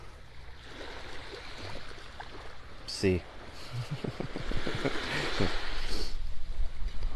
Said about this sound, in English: Love hearing the ocean.